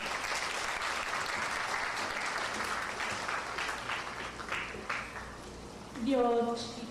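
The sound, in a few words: audience applause for graduates at a school graduation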